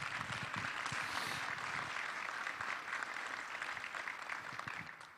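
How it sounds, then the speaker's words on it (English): Conference audience at an entrepreneurship event claps in a steady, fairly dense round of applause, continuous for about five seconds and tapering slightly at the close. "I'd love to round of applause,"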